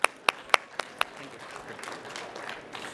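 A few loud, sharp claps ring out close by, followed by softer, scattered applause from an audience at a tech demo session as a speaker is welcomed to the stage.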